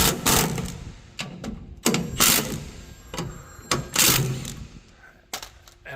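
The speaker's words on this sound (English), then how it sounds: "Basically, we got to loosen up these bolts." Sharp metallic clanks and ratcheting clicks come in irregular bursts at close range as a wrench loosens bolts on a combine's tailings chain, with quiet pauses between.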